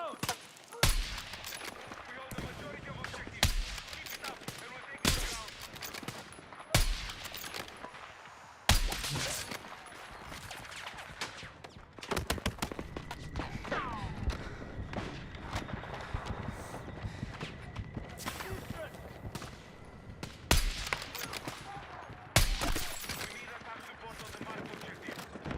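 Gunfire in the video game Battlefield 6, with sharp repeated shots and bursts scattered throughout, some loud and close, over steady in-game background noise and movement.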